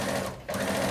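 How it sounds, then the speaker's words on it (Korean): A sewing machine runs with a steady mechanical whir, pausing briefly and then starting again, loud and close, with no talk. "할머니가 된 어머니는 요즘도 재봉틀 앞에 앉는다."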